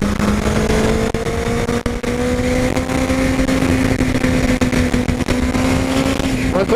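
A Honda CBR 1000 RR Fireblade accelerating hard on the Interlagos circuit, a loud close engine whine rising steadily in pitch, briefly dropping as it shifts up a gear, then climbing again, with a voice faintly underneath.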